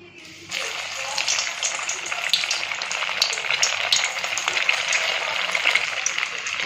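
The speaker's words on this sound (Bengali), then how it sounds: "কড়াই তেলটাও আমার গরম হয়ে গেছে, গ্যাস আমি নর্মালে রেখেছি। এবার আমি ভেজে নেব।" Milk fritters fry in hot oil in a wok over a medium gas flame, a bright, crackling sizzle that bursts up loudly and keeps fizzing steadily without pause.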